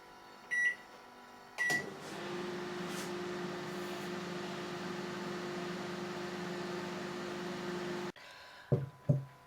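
An 800-watt microwave oven hums steadily for several seconds, bracketed by a few clicks and knocks before it starts and after it stops.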